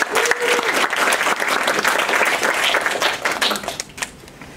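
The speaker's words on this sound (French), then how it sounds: "veuillez les applaudir s'il vous plaît pour les remercier" Audience applause at an evening lecture on Renaissance dress and cross-dressing, a dense steady clapping from a sizeable crowd that thins out toward the end.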